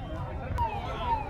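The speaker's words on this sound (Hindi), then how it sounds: "आ गया फायर ब्रिगेड आ" A fire brigade engine's siren on a street in Usha Nagar, Annapurna area, heard as a faint rising wail at a distance beneath steady background noise, with voices talking nearby.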